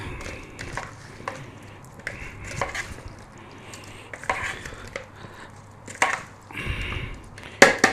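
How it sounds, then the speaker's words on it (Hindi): Paneer tikka marinade is worked together in a bowl, giving irregular soft clacks, scrapes and knocks of a utensil against the bowl, close by with short pauses and a louder clatter near the end. "मिक्स कर रहा हूँ।"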